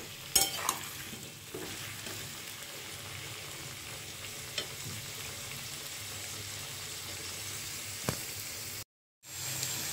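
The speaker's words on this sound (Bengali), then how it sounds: "পেঁপে আলুটাকে একটু ভালো করে ভেজে নেব।" Papaya and potato pieces fry in hot oil with turmeric in a Bengali home kitchen, giving a steady close sizzle broken by a few stirring scrapes, with a brief dropout near the end.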